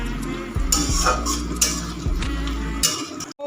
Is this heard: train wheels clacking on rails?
no